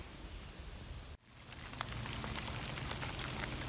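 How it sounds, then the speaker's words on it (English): Steady rain falling outdoors in a wetland, a dense even hiss of drops that briefly cuts out, then returns slightly louder and continues without any voices. "It falls back to the world as rain."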